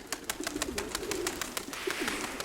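Mykolaiv breed pigeons cooing nearby in a steady series of soft, repeated calls, with light rustling and flutter around them and no talk.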